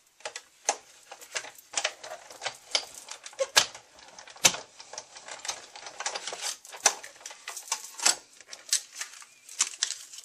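Black cardstock for a card layer being cut: a steady run of small, sharp close clicks and snips in an irregular rhythm, fairly quiet, with no one talking.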